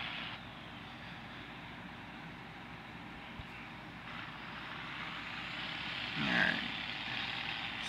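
Engine of a 6-door Dodge truck revving hard in an offroad stunt park video game, a steady droning roar held throughout that swells louder toward the end.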